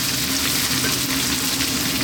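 Garlic ginger paste fries with eggplant in a hot pan, producing a loud, dense, continuous sizzle with a low hum underneath.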